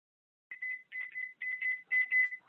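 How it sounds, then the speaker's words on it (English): A kitchen timer alarm goes off during cooking, repeated shrill beeping tones in quick irregular bursts, loud and close in an otherwise quiet room. "My timer's going off."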